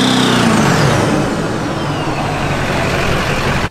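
LB7 diesel truck with a Rhine's Diesel Service 68mm turbo and straight exhaust, a loud steady diesel drone with a high whistling turbo chirp that sweeps down at the start, close and continuous with no talk.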